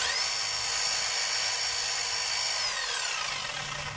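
A DeWalt D25810 5 kg jackhammer runs continuously close by with a high whining tone, a steady loud drone that drops in pitch near the end as it winds down, with no talking.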